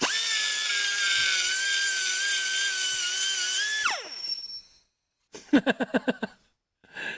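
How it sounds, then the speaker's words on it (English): Close, loud power grinding on metal, throwing fine metal shavings, a steady whine that winds down after about four seconds, followed by a pause and a burst of rapid rhythmic grinding pulses. "I already started grinding away at it just to see whether or not this was going to work"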